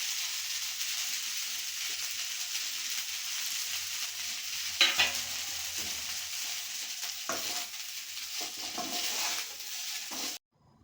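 Vegetable fried rice with spring onions stir-frying in a pan, a loud continuous close sizzle with spatula scrapes and one sharp clatter partway through, ending abruptly in silence.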